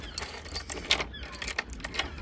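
A bunch of keys jangles briefly in a few light metallic bursts, close by, right after a British Standard lock is fitted into a door.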